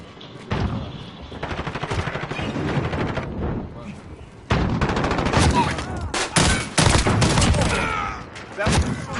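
Gunfire in the shooter video game Call of Duty, bursts of rapid automatic shots and loud single blasts in close succession, with game voice lines and talking mixed in.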